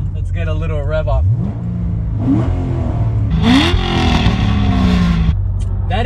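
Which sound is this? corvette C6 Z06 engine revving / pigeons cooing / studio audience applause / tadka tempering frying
corvette C6 Z06 engine revving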